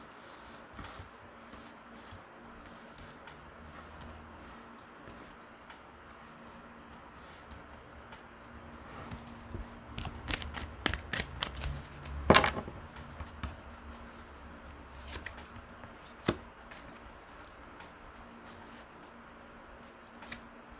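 Playing cards are shuffled and handled, soft rubbing and sliding with a cluster of sharp flicks and riffles midway, faint and close with no talk.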